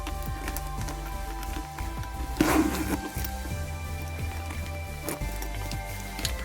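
A zipper being drawn closed on a Louis Vuitton Alma BB handbag, a short rasping zip near the middle of the clip with soft handling noises around it, close and fairly faint over a steady background hum.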